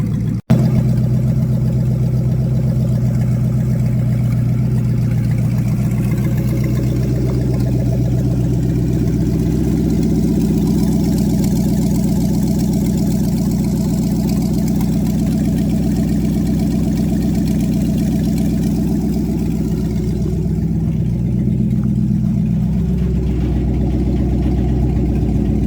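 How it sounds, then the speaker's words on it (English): A car engine idles steadily for camshaft break-in, a loud, close, continuous low rumble with an even pulse that holds for the whole stretch and dips slightly near the end, with no talking. "Just gonna let it run for about another 5 minutes or so, and then we're gonna get that RPM up and start getting that cam worked back in."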